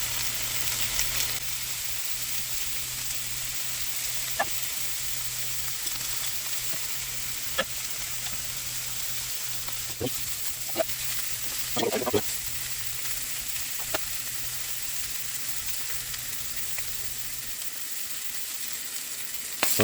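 Sausages fry low and slow in a pan on a stovetop, giving a steady broadband sizzle throughout with a few sharper pops and spatters, and a low hum that drops out near the end.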